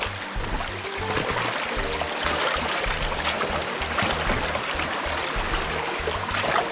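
Hiking boots made in Romania wading through a rushing mountain stream in the Ciucaș mountains in autumn, with continuous close splashing and flowing water and no talk.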